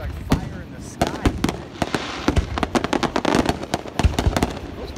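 Strobe rocket fireworks crackle in rapid irregular sharp pops and bursts, dense and fairly loud outdoors, with voices faintly in the background.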